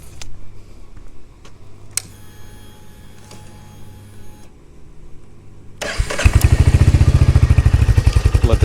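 A Royal Enfield Hunter 350 fitted with a Coffman's shorty slip-on exhaust fires up after some quiet clicks and settles into a loud, close, steady thumping idle.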